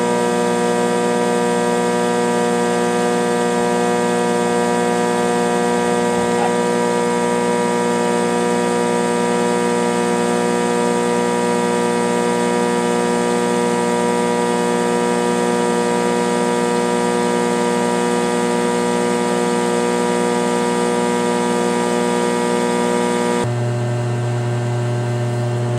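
A TIG welder runs a pass on a pipe with argon shielding, giving a steady, continuous electrical hum and buzz that holds unchanged for over twenty seconds before shifting abruptly near the end.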